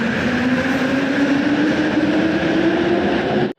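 A Malaysian bullet train rushing past with a steady, loud rumbling roar and a faint whine, continuous for several seconds before cutting off abruptly.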